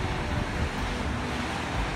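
Strong wind at Marinha Beach, Algarve, Portugal, in winter buffets the microphone with a constant low roar and rumble, no other sounds standing out.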